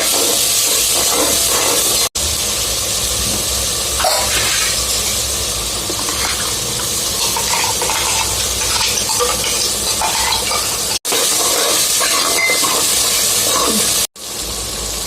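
Ground masala paste dropped into a hot pan sizzles loudly, a steady broad hiss with faint stirring clinks, briefly broken by cuts, and no talking.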